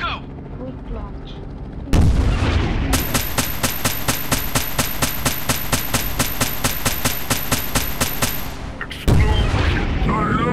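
Rapid bursts of video-game gunfire and explosions from a helicopter combat game: a sudden loud blast at two seconds, then a steady machine-gun rattle of evenly spaced shots for about six seconds, ending in another heavy boom, with a voice talking faintly underneath.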